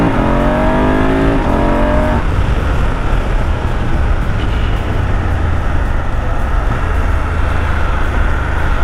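A BMW GS motorcycle with a Dominator HP1 exhaust, decat pipe, quickshifter and auto blipper revs hard. The loud engine note climbs quickly through shifts, then settles into a sustained close roar.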